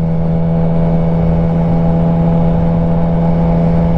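A Triumph Trident 660 motorcycle fitted with a Firetong full exhaust idles close by, a loud, steady, buzzing drone that holds unchanged from start to finish.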